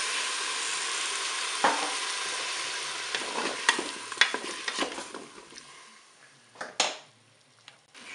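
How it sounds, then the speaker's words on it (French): White wine poured into a hot pan of sizzling food for farfalle sauce, a steady close fry hiss with stirring scrapes and a few sharp utensil taps that fade toward the end. "Je vais ajouter mon verre de vin blanc."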